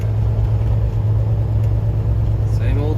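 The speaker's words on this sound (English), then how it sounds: "Good old traffic" Road traffic makes a steady, loud low rumble of engines that holds without pause throughout.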